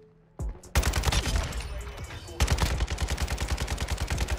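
Kastov 762 assault rifle firing in Modern Warfare 2, a short opening burst followed by long rapid automatic strings of close, loud, punchy shots with a steady hammering rhythm.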